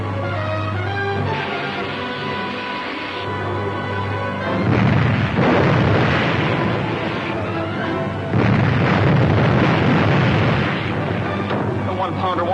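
A one-pounder naval gun fires in a vintage radio drama, with loud booming blasts and roaring explosions that swell and hit heavily in repeated bursts as staged battle effects.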